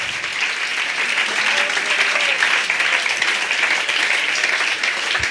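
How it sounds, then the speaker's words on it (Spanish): Audience applause at a church gathering, steady close clapping from a crowd that holds evenly throughout without letup. "Aplausos para Jesús, para Jesús, para Jesús."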